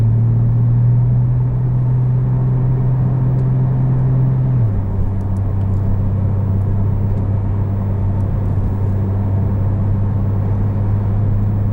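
A 2019 Porsche 911 Turbo cruises along with a steady, low engine drone, loud and continuous, its pitch dipping slightly partway through as the engine settles.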